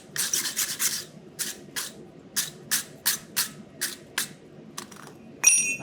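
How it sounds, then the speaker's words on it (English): A wire brush scrubs a forged steel bar in a series of sharp, rasping strokes, about a dozen quick scratchy bursts in an uneven rhythm, close and with no talking. "So again, I'll wire brush it."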